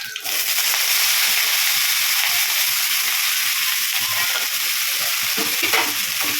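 Vegetables fry in a pan with chili and are seasoned with turmeric and salt, giving a loud, steady sizzle that holds throughout with faint stirring underneath.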